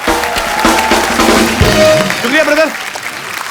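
Studio audience applause on a Hindi comedy talk show, a broad wash of clapping filling the clip with music cues over it, while a voice speaks briefly on top.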